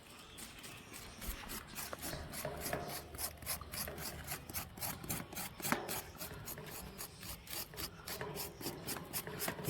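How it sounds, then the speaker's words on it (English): A blade scrapes charred skin off a roasted yam in quick, repeated rasping strokes, close but fairly quiet, with no talk. "I'm going to scrape off some of the outer covering"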